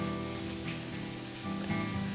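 Onions sizzling as they cook in a pan alongside fresh lamb liver, a steady soft crackle and hiss under a low continuous hum, fairly quiet and unbroken.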